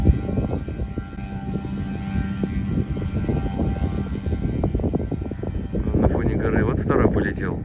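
A light aircraft or motor glider takes off from a busy airfield during a mass departure of gliders and planes, its engine drone steady and fairly loud with wind buffeting, rising at the end, while someone talks over it.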